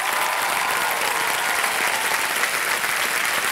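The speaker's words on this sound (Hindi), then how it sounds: "तालियां बजती रहो मुस्कान के लिए।" Continuous studio audience applause on the set of the quiz show Kaun Banega Crorepati, a dense, even wash of clapping, loud and close, with no voice over it.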